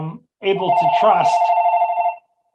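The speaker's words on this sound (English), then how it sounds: "sorry for the phone" A telephone rings with a steady, sustained electronic tone during a talk at an international conference on prisoners' families. It starts right after a speaker's voice and rings for over a second, loud and close.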